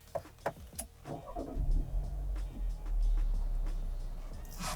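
A few clicks and key jangles, then a 2022 Volkswagen Taos engine cranks and catches, settling into a steady low idle rumble close by.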